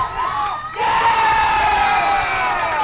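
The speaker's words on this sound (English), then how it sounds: "You can hear the crowd." Crowd cheering and shouting at a high school boys' soccer match, CHCA at Mariemont, swelling suddenly after a brief lull into a loud, sustained roar with whoops.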